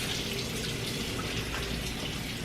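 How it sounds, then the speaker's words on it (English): Tap water runs steadily over salmon fillets, rinsing them under a kitchen faucet in a steady, even splash with no talking. "So we're gonna rinse the salmon now."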